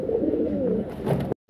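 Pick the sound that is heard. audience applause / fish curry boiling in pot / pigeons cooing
pigeons cooing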